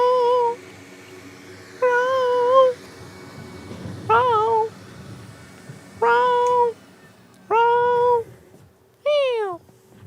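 A person's voice imitates a cat meowing, giving six separate drawn-out meows spaced about two seconds apart, close and distinct over a quiet room.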